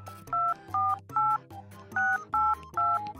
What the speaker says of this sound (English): She's making a phone call.